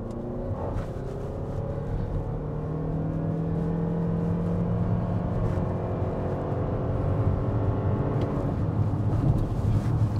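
A 2023 Lexus NX450h+ plug-in hybrid with a CVT transmission accelerating hard on gas and battery power together, its engine a steady, rising drone held at high revs, heard from inside without talk.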